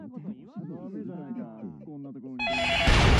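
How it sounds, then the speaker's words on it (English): In the video game Yakuza 0, a phone starts ringing with a bright, loud electronic trill partway through, following a stretch of someone talking. "Someone's ringing."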